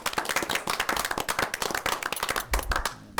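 Applause for the teachers of the quarter at a school board meeting: a small group's sharp, distinct handclaps, fairly close and uneven, continuing steadily before tapering off at the end, with no talk over it.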